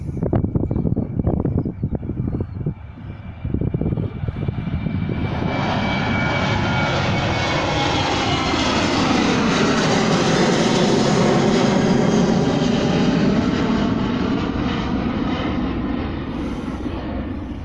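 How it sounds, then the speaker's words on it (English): Ryanair Boeing 737-8 jet taxiing at East Midlands Airport, its engines building from a rumbling whine into a loud sustained roar with a sweeping pitch, alongside wind buffeting on the microphone. "we've got one of Ryanair's 8s on the move,"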